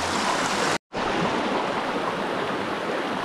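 Small clear-water stream in shade with wild fish, flowing in a loud continuous rush close by, broken briefly by a split-second cut to silence before the steady flow resumes.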